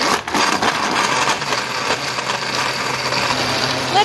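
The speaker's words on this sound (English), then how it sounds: "Let it blend for, a couple minutes" A blender runs steadily, crushing ice for a smoothie, with a dense grinding whir and chunks rattling at the start, heard close and alone.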